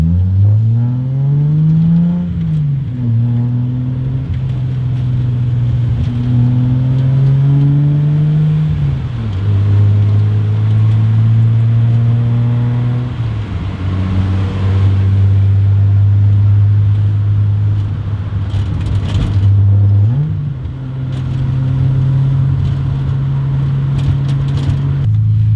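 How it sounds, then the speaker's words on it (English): A Nissan S30 Fairlady Z with a resonator and muffler on its exhaust drives past at close range with a droning, rising and falling engine note as it climbs through gears, continuous with no talk. "I have a resonator on it right now, but it does make it kind of droney with the muffler I have on."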